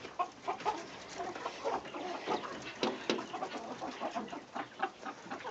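Quail on a farm in extreme heat, a busy flock giving short, repeated clucking and chirping calls in an irregular rhythm, fairly close and moderately quiet, with no talk.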